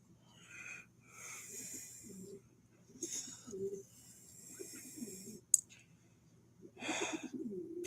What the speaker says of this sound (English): Pigeon ASMR.